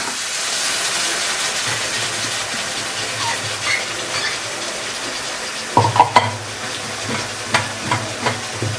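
Pork kosha frying in a pan, with a steady close sizzle and hiss of cooking meat, broken by several sharp scrapes and clinks of stirring near the end.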